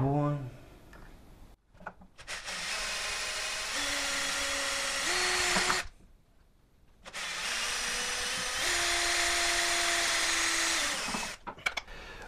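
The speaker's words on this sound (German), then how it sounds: "Jetzt auf 10 mm bohren." An electric drill whines steadily in two long runs with a short pause between, boring a 10 mm hole, its pitch shifting slightly as it bores, with a few speech sounds at the start.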